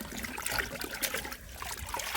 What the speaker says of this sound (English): I'm just gonna dunk it in this water. Like I said, it has peroxide in it and water